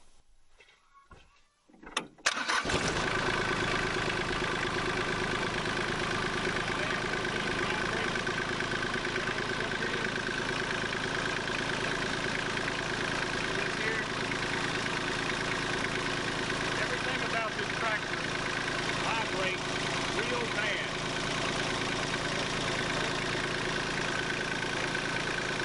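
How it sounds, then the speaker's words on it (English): An LS XJ2025 tractor engine is cranked after a short quiet start, then settles into a steady rumbling idle with a rattling, buzzing vibration that holds constant throughout. "Now I'm going to crank it up and I'm going to show you the vibration on this motor"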